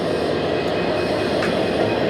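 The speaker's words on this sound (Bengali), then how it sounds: "তো এই সাথে সাথে আরও একটি ট্রেন আমাদের এখানে ঢুকতেছে" Train rumbling steadily as it pulls into a Bangladeshi railway station, a dense continuous roar with faint wheel squeal, close and loud.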